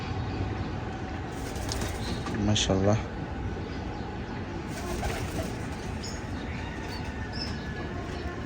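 Pigeons coo in a brief rolling burst near the middle, set against steady background noise, with someone speaking briefly.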